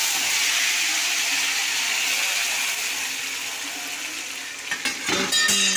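Chopped tomato pieces hitting a hot pan and frying, a loud steady hiss that softens slightly, followed near the end by a few clattering stirring knocks.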